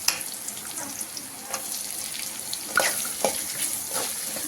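Ingredients fry in a pan for a sweet payasam, giving a soft, faint sizzle scattered with small pops and stirring scrapes, and no voice.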